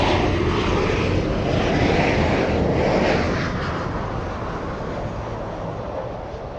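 An Emirates airliner passes near LAX off the Long Beach coast, a broad steady jet roar that swells to a peak around midway and then slowly fades as it moves off.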